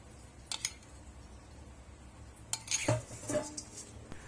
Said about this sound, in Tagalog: Haluin lang natin mabuti until mag-well combine lahat ng ating mga sangkap.